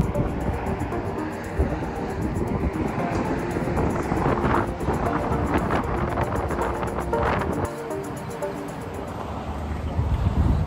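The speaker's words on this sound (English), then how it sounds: "Not sure if you can hear me, but it's kind of windy here" Gusts of wind buffet the microphone outdoors in Anchorage, Alaska, with heavy low rumbling and fluctuating roar, continuous and loud, with faint background noise.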